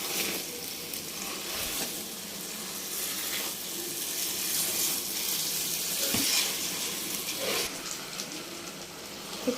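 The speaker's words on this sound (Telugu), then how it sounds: "ఈ విధంగా పైకి తేలేంత వరకు మనము వేయించుకుంటానే ఉండాలి" Bread pieces frying in oil in a pan for bread halwa give a steady broad sizzle, close and continuous, with faint stirring scrapes now and then.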